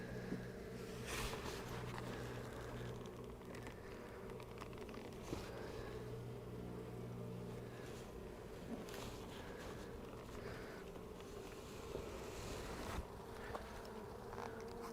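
Honey bees in a dense, steady buzzing swarm around an opened beehive during an after-winter check, fairly quiet and continuous, with occasional faint handling knocks and no talk.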